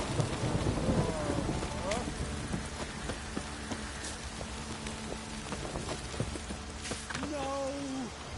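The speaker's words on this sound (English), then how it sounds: "If it don't stop raining, my arse will rot off. This downpour's a bastard, it is." Steady rain pours down with rolling thunder in the video game The Witcher 3: Wild Hunt, a constant hiss that runs throughout while voices speak faintly underneath.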